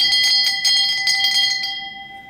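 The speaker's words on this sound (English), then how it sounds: "if you like the museum, you can't forget to ring the bell." A bell rung at a museum in Syracuse, Utah: a bright metallic clang struck several times in quick succession, then a clear tone lingering and fading, loud and close with no talking.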